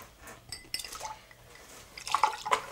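Liquor is poured into a cocktail glass filled with ice, producing soft trickles, drips and bright little clinks of ice against glass that come in scattered bursts at moderate volume.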